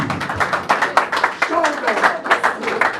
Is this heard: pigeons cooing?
no